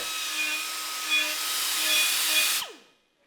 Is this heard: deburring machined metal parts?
yes